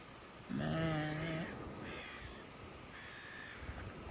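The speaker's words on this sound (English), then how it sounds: "And there are like birds that look very, very epic. Ravens, I think?" Ravens call outdoors with three caws, the first loud and harsh, the next two fainter and more distant, spaced about a second apart over low background noise.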